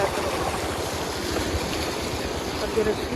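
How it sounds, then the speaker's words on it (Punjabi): A motorcycle rides through floodwater in a flooded Punjabi village, with water rushing and sloshing steadily around it and a low engine rumble beneath. The sound stays constant and close for a few seconds, with no speech. "ਇੱਥੇ ਤਾਂ ਆਪਣੀ ਮੋਟਰਸਾਈਕਲ ਠੀਕ ਚੱਲਦੀ"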